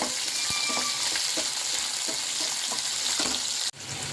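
Onion and capsicum fry in a pan for restaurant-style mushroom chilli, giving a steady, close sizzle with a few soft stirring knocks. The sizzle breaks off abruptly near the end, then returns more faintly.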